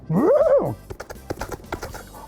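Horses ridden by a large army, with a loud rising-and-falling neigh up front followed by a run of quick hoofbeats clopping steadily, no talk over them.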